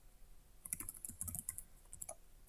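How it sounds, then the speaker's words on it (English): Computer keyboard keys clatter in a short quiet burst of rapid taps, fairly faint, with a brief pause before a couple of final strokes. "let me just type the whole thing here."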